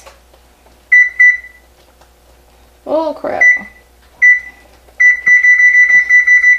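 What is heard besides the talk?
kitchen timer being set, beeping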